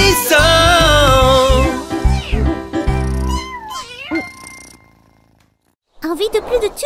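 Kitten meows sung and mimicked within a bouncy French children's song, voices imitating the cat's mews over music before the sound drops to near silence and the music picks back up.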